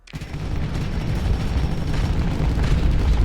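Explosions in the space combat game Starsector, with the Nexerelin mod, form a loud, continuous roaring rumble of blasts that swells and holds steady for a few seconds, with no voices.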